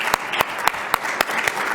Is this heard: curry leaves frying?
no